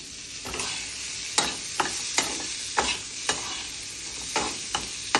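Ginger and garlic fry in a pan for a capsicum masala, a steady sizzle broken by sharp clinks and scrapes of a stirring spoon roughly every half second, close and without talk.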